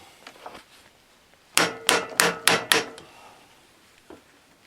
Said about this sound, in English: We got a couple of these loose with the impact.